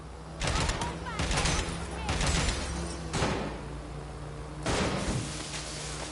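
Gunfire in the video game Watch Dogs Legion, loud bursts of rapid shots in three or four clusters with short gaps between them, under a constant background hum.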